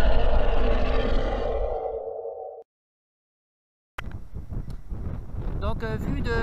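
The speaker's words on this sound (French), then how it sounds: "il y a un petit peu de vent aujourd'hui comme souvent." Wind buffets the microphone in heavy, roaring gusts, broken by a moment of silence, while a person speaks over the rushing noise.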